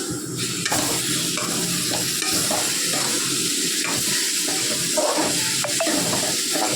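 Food bubbles and sizzles in a pot up close, with steady hissing and repeated scraping from stirring.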